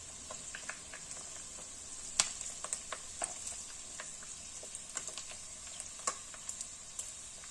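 Chicken feet frying in hot oil give a steady close sizzle, with scattered sharp pops and crackles throughout and no talking.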